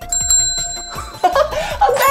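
A bright bicycle-style bell rings loudly at the start, its clear ringing tone fading as busier playful sounds and laughter-like noises follow in a lively children's science show setting.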